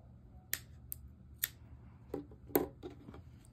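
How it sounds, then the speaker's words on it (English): Scissors snipping off a yarn end during loom knitting: several quiet, crisp snips and small clicks close by, spaced irregularly over a few seconds. "cut it off."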